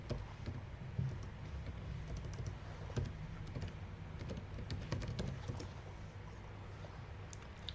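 Rapid clicking keystrokes on a computer keyboard, steady and close, with irregular bursts of taps over a low room hum and no voices.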